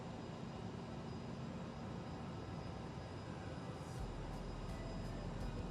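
Airliner of roughly 85,000 pounds in Microsoft Flight Simulator, giving a steady, loud engine drone throughout with a brief higher whine near the end.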